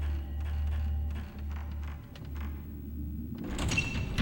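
In Fatal Frame 3 on PS2, a locked door rattles and thuds near the end, over a low steady hum that pulses through the scene.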